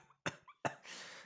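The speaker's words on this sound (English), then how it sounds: "That cough is concerning." Two short, sharp coughs from one person, close and separated by a brief pause, followed by a rushing breath or exhale, all at low volume in a quiet room.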